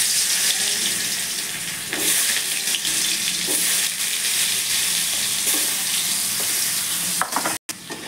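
Potatoes coated with salt and turmeric fry in hot oil with a steady, close, dense sizzle and crackle throughout, with occasional stirring clicks and a brief break near the end.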